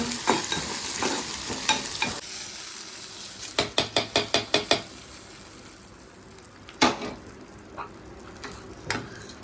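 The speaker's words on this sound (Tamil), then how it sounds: "இதை தாளிச்சு அதில் ஊற்றிடுவோம்." Hot tempering of onion and spices hits cooked arai keerai greens with a loud sizzle, joined by a quick run of metallic stirring clicks and a few scattered clatters. No talking is heard.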